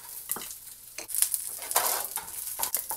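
Peanuts and other ingredients for a spicy onion-tomato chutney sizzle loudly in hot oil while a spoon stirs and scrapes the pan in steady, repeated strokes, close up and without talk.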